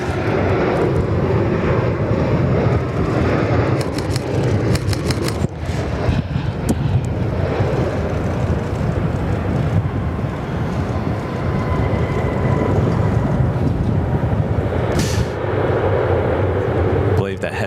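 A P-8 maritime patrol aircraft arrives at RAAF Base Williamtown, its jet engines roaring loudly and steadily throughout in light wind, with people talking over the noise.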